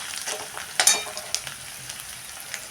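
Four crushed green chillies sputter in hot tempering oil: a soft, steady sizzle with a couple of sharp crackling pops, close by and with no speech.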